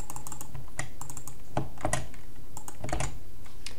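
Computer keyboard typing a login name, a brisk close run of sharp key clicks with irregular spacing and a few heavier strokes, alone without talk.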